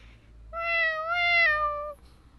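A cat meows once in a video game, a single clear, drawn-out meow rising and falling over a faint low background hum.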